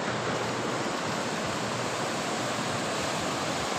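Sea waves roll onto a Karachi beach in a steady, loud, broadband roar with no distinct breaks and no voices.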